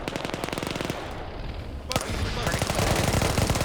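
Marauder units firing in the StarCraft video game, loud rapid bursts of gunfire rattling nearly nonstop, with a brief lull midway before the shooting intensifies again; no clear talk over it.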